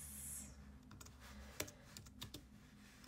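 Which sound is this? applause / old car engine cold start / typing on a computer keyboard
typing on a computer keyboard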